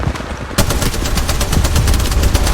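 Rapid automatic gunfire rattles through an Apex Legends firefight, a loud burst after a brief lull, then continuous closely spaced shots pounding on without a pause.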